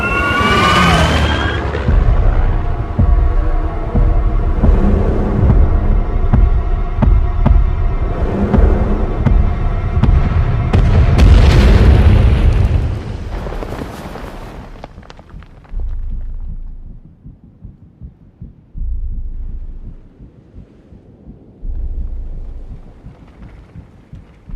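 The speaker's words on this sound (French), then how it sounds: "le son des explosions est plus détaillé et plus riche" Deep, rumbling explosions from the war film Dunkirk, heavy booming bursts layered with roaring mechanical sound for about fifteen seconds, then a few separate distant thuds in near quiet.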